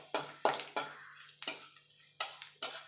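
A metal spoon scrapes and taps a pan as bay leaf and fennel seeds are stirred while frying for a Bengali lentil dish, about eight sharp, close clinks at an uneven pace over near quiet.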